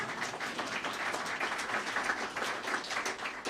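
Crowd applause at a live political announcement in Gainesville, Florida, a moderate, uneven patter of many hands clapping with audible individual claps, steady over several seconds without speech.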